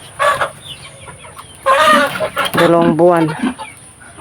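Chickens clucking in a backyard coop on a small farm with pigs nearby, a few short bursts of hen calls close by, mixed in with a person talking between them.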